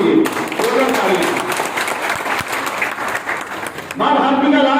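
An audience at a training session in Sainik Enclave ward breaks into loud applause for Narendra Modi, dense continuous clapping that swells and then gives way to a voice.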